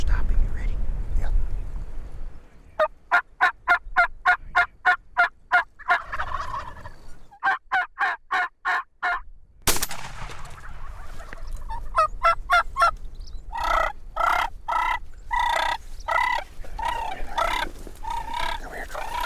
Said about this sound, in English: Gobbler's right behind.